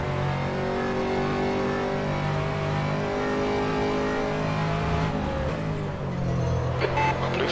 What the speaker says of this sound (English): Here come the LMP3 class cars.